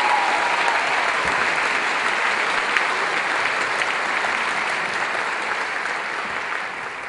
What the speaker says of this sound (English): Let's give all of those seniors a round of applause.